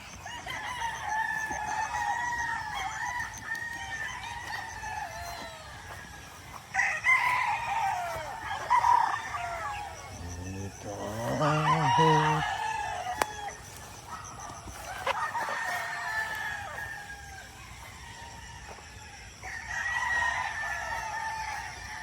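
Mount Banahaw chickens on a Philippine farm, with repeated roosters crowing loudly nearby and clucking between the crows, over a steady outdoor background and no speech.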